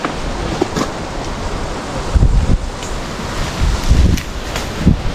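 Sea waves wash against the shore under strong wind buffeting the microphone, a loud continuous roar with surging swells, no talk.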